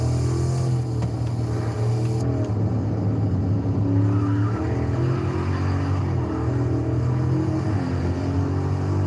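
A stock Mercedes E-Class at a Euro cruise night revs its engine in a steady, loud, close drone with strong low harmonics, tires faintly breaking loose at higher RPM.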